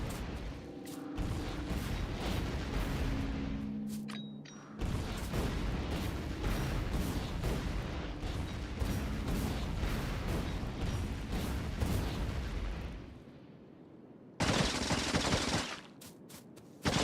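Grenades blowing up rocks in a factory-building video game, heard as loud, dense, sustained rapid blasts and crackling bursts, with a sharp burst near the end after a brief lull.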